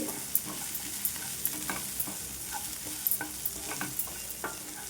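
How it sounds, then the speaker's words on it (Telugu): Onion chutney mixture with dry coconut and curry leaves being stirred in a pan, a steady light sizzle punctuated by repeated spoon scrapes and taps at an irregular rhythm, close and fairly quiet with no talking. "ఇందులోనే కొద్దిగా కరివేపాకు అండి మొత్తం ఒకసారి కలిపేసుకోవాలి"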